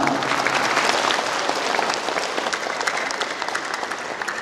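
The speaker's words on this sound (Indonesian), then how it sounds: "Tepuk tangan untuk orang tua kita bersama." Sustained applause from a large audience at a university graduation ceremony for the economics and business faculty, a dense steady clatter of many hands clapping throughout, loud and close with no talking.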